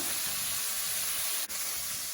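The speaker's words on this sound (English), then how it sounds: "I love that noise, that sizzling noise." Steady, loud sizzling of sausages frying in a pan, a continuous bright hiss with one brief dip, no voices.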